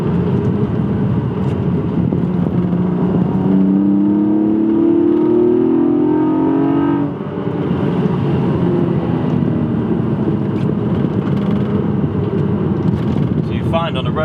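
A Toyota Supra's 2JZ engine with individual throttle bodies revs in a tunnel, a loud sustained drone rising in pitch as it accelerates past, then easing off with a reverberant roar.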